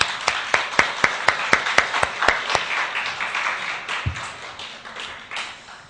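A church congregation at a Sunday worship service applauds. It starts with sharp, evenly spaced rhythmic claps, then turns into looser, softer scattered clapping that fades away.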